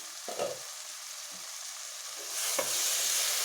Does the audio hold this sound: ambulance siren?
no